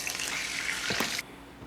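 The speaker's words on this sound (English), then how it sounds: "Deep frying chicken skin, fat on fat." Steady, broad sizzling hiss of chicken skin deep frying, loud and continuous, cutting off abruptly near the end to a quieter background.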